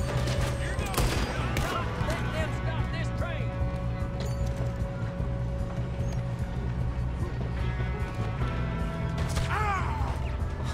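Gunshots ring out in a cowboy video game, several sharp cracks in quick bursts over a steady backdrop, with a voice talking now and then.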